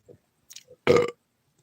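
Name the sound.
burp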